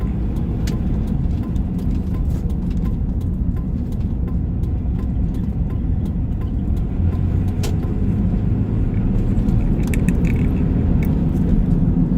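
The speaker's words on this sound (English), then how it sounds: "No, that's a Silverado. Yeah, that's a Silverado." A Chevrolet Silverado pickup rolls past on the road, heard as a steady low engine and tire rumble from inside a vehicle, with faint clicks and rattles over it.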